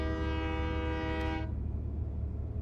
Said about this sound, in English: Let's hit that horn. I like this horn.